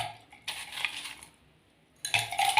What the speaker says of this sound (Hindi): ये क्रश की हुई मेरे पास थोड़ी सी बर्फ़ है, ये मैं इसमें डाल दूंगी